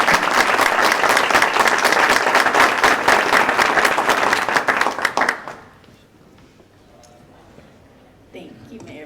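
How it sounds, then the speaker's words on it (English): Audience applause for the project team at a community reception, loud and dense for about five seconds, then stopping abruptly into a quiet room with faint murmurs. "give a round of applause to the project team for putting this on"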